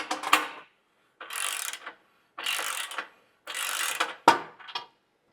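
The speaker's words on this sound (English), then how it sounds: "Now we can take this one, push it back up in place, and reinstall those 2 bolts." Ratchet wrench reinstalling bolts on the front skid plate of a 2024 Toyota Tacoma, four bursts of rapid clicking separated by short pauses, close up, ending with a sharp metallic knock and a brief final run.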